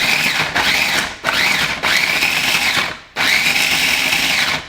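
A small electric grinder chops coconut in loud, close whirring bursts, three to four pulses of high-pitched motor whine separated by short pauses.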